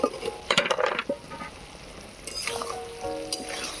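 Fried soybean chunks and potatoes tipped into sizzling spice paste in a hot pan, with a clatter of utensil scrapes and clinks over a continuous close frying hiss.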